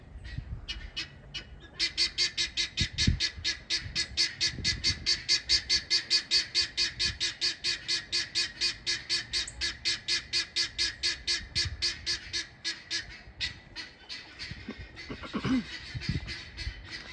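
Guinea fowl and chickens holler in a country chicken yard: a long, rapid run of loud, rhythmic, rasping calls, with scattered softer clucks before and after.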